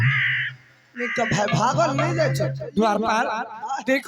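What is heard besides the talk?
crow cawing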